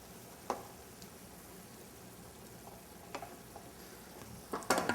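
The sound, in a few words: stirring pasta dishes in the pot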